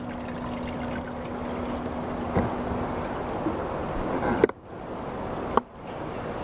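A small aquarium pump in a solar aquaponics setup moves water through a gravel bed, giving a steady close trickling flow with a faint constant hum and a couple of brief knocks.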